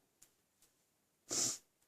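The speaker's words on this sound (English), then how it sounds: "I've got the sniffles" A single short, breathy sniff through a stuffy nose, close and quiet, preceded by a couple of faint soft ticks in an otherwise still room.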